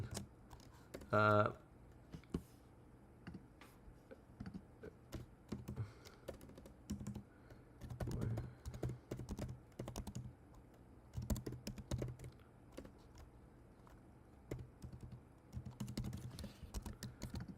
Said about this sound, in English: I'm going to type, I want you all to visit